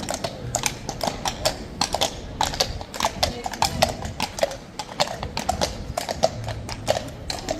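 Horse hooves clip-clop steadily on a hard surface, a brisk rhythmic clatter of many sharp hits, fairly close and loud, with no speech.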